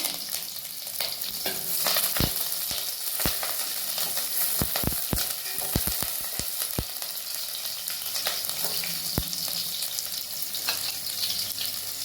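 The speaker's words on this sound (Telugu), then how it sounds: "ఎర్రగడ్డలు బాగా ఫ్రై కావాలి" Onions and curry leaves frying in three spoons of oil, a dense close sizzle throughout with a run of sharp crackles and pops in the middle, no talking.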